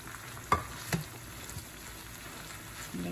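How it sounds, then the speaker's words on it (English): Mushrooms drop into a hot pan for beef and noodles with a couple of soft thuds, followed by a steady close sizzle and light stirring scrapes, with no voices. "I'm gonna put my mushrooms in here"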